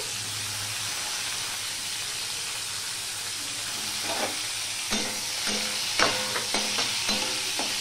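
Bitter gourd fries in hot oil with a continuous close sizzle, while a utensil stirs and scrapes the pan in irregular clatters that grow more frequent later on.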